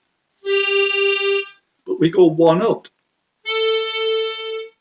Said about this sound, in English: because I'm playing a G mouth organ.